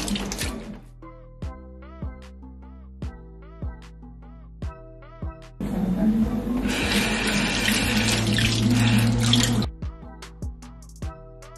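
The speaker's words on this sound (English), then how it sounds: "wash them nice and clean." Fresh scallion and thyme are rinsed under a running kitchen tap while oxtail is being prepared; scattered drips give way to a steady gush of water for about four seconds, then drips again.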